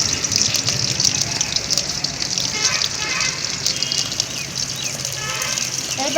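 Green chillies hit hot oil in a village kitchen while making kochur loti, giving a steady, loud, close sizzling hiss that runs throughout without a break.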